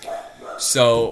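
A dog barks sharply in a house during a college football predictions talk, a loud burst of one or two barks near the end that cuts over a man's speech.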